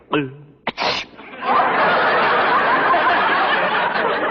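A brief nasal wind-up and sharp catch, then a long, loud, breathy hiss that holds steady for several seconds, a drawn-out sneeze sound effect from an old radio drama.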